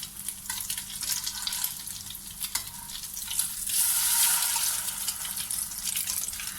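Coconut French toast pieces fry in ghee in a pan, making a continuous close sizzle that swells to a brighter, louder hiss partway through, with occasional small crackles.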